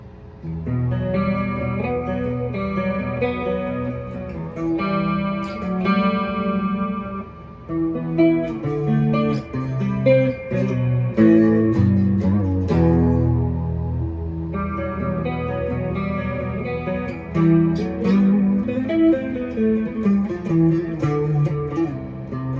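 A Westcreek Cerberus Flying V electric guitar is played through a clean amp channel with chorus and echo effects. It gives ringing, sustained chords and arpeggiated notes in a moderate, flowing rhythm, up close, with no voices.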